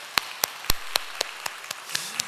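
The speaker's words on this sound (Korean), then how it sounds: "우리 하나님께 감사와 영광의 박수 올려드리겠습니다" Scattered, separate hand claps from a church congregation during a Sunday morning service, about eight sharp claps spread over two seconds, fairly quiet and with no talking.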